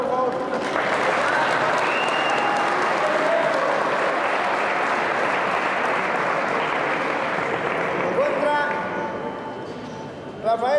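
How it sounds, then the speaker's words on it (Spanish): A crowd at a frontenis tournament at Club Libanés Glaciar in 2007 gives a world champion player a strong, sustained ovation. The loud, dense clapping lasts about nine seconds, then thins and fades, with voices faintly audible beneath it. "Un fuerte aplauso, por favor."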